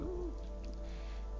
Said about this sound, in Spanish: Nos vamos con el canto del hombre búho